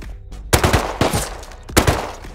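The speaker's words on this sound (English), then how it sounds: "Oh, there's more shots." Gunfire in the video game Rust rings out in loud, close bursts of rapid shots, with a quick double crack, another cluster and a final pair of reports.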